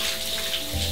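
Shower water running steadily while a whippet is washed indoors, a constant close hiss of spray with no talking.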